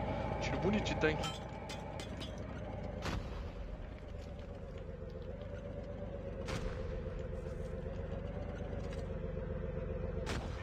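A series of sharp, booming tank cannon blasts fire one after another over a steady engine rumble, with scattered distant explosions, in Call of Duty Mobile.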